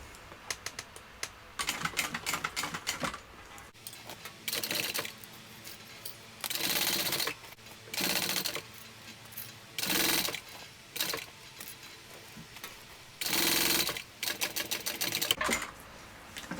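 A sewing machine top stitching a fabric shoulder bag with vinyl behind it, running in loud close bursts of rapid rattling stitches separated by short quiet pauses.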